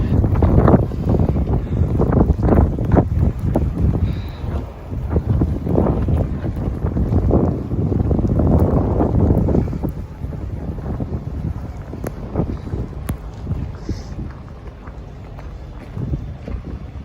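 Strong winter wind gusting around downtown buildings in Ottawa, a loud roaring buffet across the microphone that eases after about ten seconds into a steadier, lighter rush.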